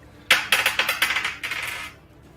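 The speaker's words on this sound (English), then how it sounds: "And A lot of dice, Zenith." A handful of dice rolling and clattering on a table during a tabletop role-playing game, a bright rapid burst of tumbling clicks that slows and settles after about a second and a half, close and alone.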